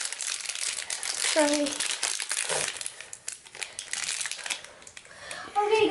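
The packaging of a LOL Pearl Surprise toy crinkles and rustles loudly and close up in irregular bursts while it is opened, with someone talking briefly in between.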